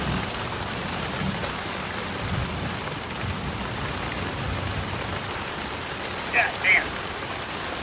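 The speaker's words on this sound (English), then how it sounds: "Gotta love trying to work on stuff in the rain." Steady rain falling outdoors while someone works on a truck, a constant hissing patter filling the whole stretch, with a man briefly swearing near the end.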